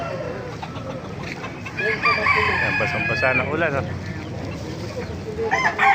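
Roosters crow repeatedly while hens cluck around them at a poultry market in Baliuag, with a person talking briefly in Filipino over the farmyard noise.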